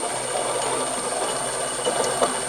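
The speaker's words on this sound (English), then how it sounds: "it's a little bit grindy, a little bit of gear noise there" A gear speed reducer runs at partial speed, giving a steady close hum with a faint hissy, grinding gear whir that holds evenly throughout.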